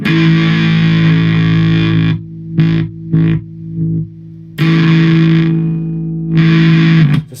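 A loud electric guitar through a Lizard Queen distortion pedal rings out in sustained chords, cutting off into short choppy stabs before swelling back into long, heavy held notes.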